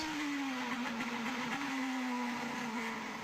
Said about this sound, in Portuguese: Acompanhando o som aí do trabalho do Ryan Hunter-Reay no carro número 37 da equipe Andretti Autosport.